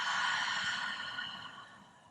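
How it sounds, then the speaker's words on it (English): A deep, open-mouthed exhale in a gentle yoga flow, one long breathy sigh that starts full and close, then tapers off gradually over about two seconds. "Open the mouth, let it go."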